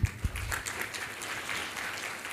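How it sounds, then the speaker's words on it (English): Brief, fairly quiet round of applause at a halal industry conference keynote session, a couple of sharp claps opening into soft, even clapping from the audience. "So another round of applause to Prof."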